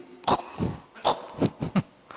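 Several sharp coughs in quick succession, close and fairly loud, with short gaps between bursts and no talking.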